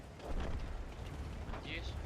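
An artillery shell strikes in the World of Tanks tank-combat video game, producing a dense, rumbling, explosive roar that fills the whole stretch. Voices are faintly audible within the noise.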